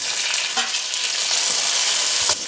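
Oil, water and tomato frying together in a pan for Tulu pathradya, giving a loud, continuous crackling sizzle with small spits and stirring scrapes throughout and no voices.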